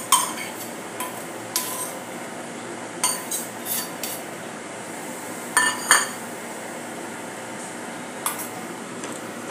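Grated coconut roasting in a pan for ukadiche modak, heard as scattered metallic clinks and scrapes of a utensil against the pan, fairly close, over a low steady background.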